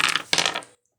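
Dice rolled onto a board game, two quick clattering bursts of hard rattling close by, the second tumbling briefly before going silent.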